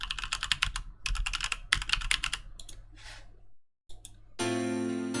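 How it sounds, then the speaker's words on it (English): Bursts of rapid clicky keystrokes on a computer keyboard, close and fairly loud, with short pauses between runs, a brief silence, then a sustained tonal musical sound takes over at the end. "Got a little keyboard ASMR for you."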